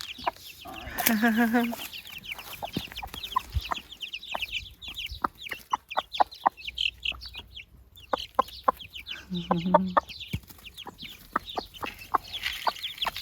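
A broody hen with her three-week-old chicks on a small farm in the Algarve, Portugal, gives soft, close clucks in scattered bursts alongside peeping chicks, with occasional quiet talk nearby.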